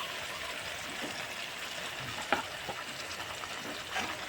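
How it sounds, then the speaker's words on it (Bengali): Masala sizzles quietly in a pan with a steady, soft frying hiss. A single sharper scrape or tap stands out near the middle, and no one speaks. "মশলাটা কষছে"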